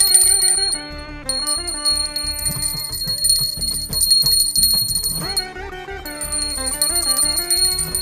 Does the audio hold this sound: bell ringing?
yes